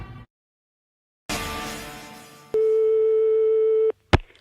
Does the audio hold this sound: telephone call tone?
yes